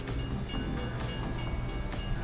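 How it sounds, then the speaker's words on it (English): A train rolls through a map in the game TF2 Classified, a loud, continuous rumbling roar with rhythmic clacking pulses close by and no voices. "So there's a train that goes through, and the door closes."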